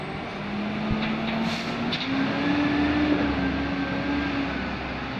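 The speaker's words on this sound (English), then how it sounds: "take your video while you're at school so you see your trash truck number" Garbage truck number 195 rumbles past with a low engine drone, a rising whine and short hissing bursts of air brakes, heard from a moderate distance with no talking.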